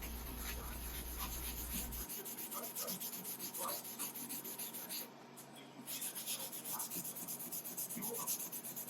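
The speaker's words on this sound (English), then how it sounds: "if you put a little bit of acetone on the Scotch-Brite pad, it takes the primer off with even less effort" A Scotch-Brite pad wetted with acetone scrubs primer off aluminum aircraft parts, making quiet, rapid back-and-forth rubbing strokes with a brief pause midway.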